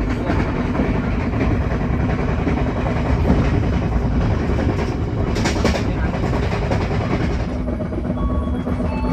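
The Airlangga economy-class passenger train runs steadily, heard from inside the carriage as a loud, constant rumble with rhythmic wheel clatter and occasional talk beneath it.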